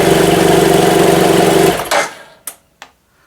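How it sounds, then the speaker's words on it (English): A BMW F800GS motorcycle engine idles steadily and loudly up close after a fuel pump controller repair, then cuts off abruptly, followed by two short metallic clicks in the quiet. "there goes the fuel pump. Bike runs."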